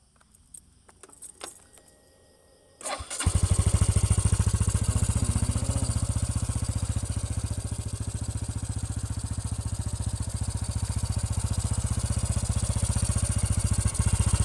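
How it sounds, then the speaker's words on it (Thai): A car engine cranks and catches after a quiet pause, then settles into a loud, steady idle with a throbbing exhaust note that runs on without talk. "ฟังเสียงท่อนะครับ"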